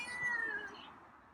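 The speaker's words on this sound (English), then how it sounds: "I heard you meow." A cat lets out a single close, drawn-out meow that slides downward in pitch and fades, heard alone at night near a kitchen.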